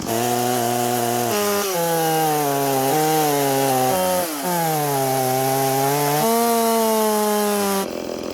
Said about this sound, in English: Put the chainsaw back in there